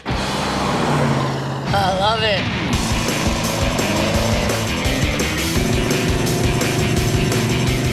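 A 1968 Pontiac GTO muscle car engine droning loudly while driving at speed, a steady rumbling roar from inside the cabin with a brief whistling swoop early on, as people talk over it.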